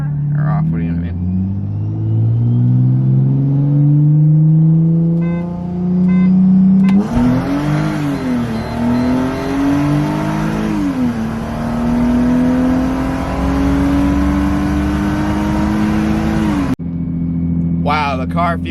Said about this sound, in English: Go first gear pull, traction control on or off.